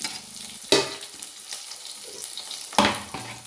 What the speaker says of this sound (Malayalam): സവോള അരിഞ്ഞ് വെച്ചത് ഇട്ട് കൊടുക്കുക കേട്ടോ